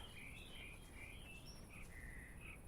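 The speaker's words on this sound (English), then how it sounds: "The ambient noise of the birds chirping and everything." Faint, high birdsong ambience from Microsoft Flight Simulator 2024 repeats over a steady hiss of outdoor ambience, soft and distant.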